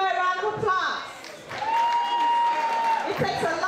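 Audience applause at a Miss Africa Texas pageant as the second runner-up is honored. A voice speaks at the start, then steady crowd clapping fills the room with a sustained high cheer or whistle above it.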